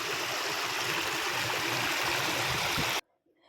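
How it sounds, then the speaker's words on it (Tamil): A village river runs strongly, a dense, steady rush of flowing water close by that cuts off abruptly near the end, leaving near silence. "நம்ம ஊரில் ஆற்றுல வந்து இப்போ வந்து நல்லா தண்ணி நிறைய போயிட்டுருக்கு"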